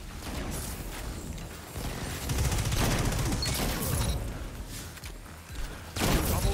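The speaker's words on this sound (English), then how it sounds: "A lot of zone grenades" Zone grenades go off in Destiny during a Double Shotgun Challenge match: dense, overlapping crackling bursts that rise and fall in loud waves, several in quick succession, with no talking.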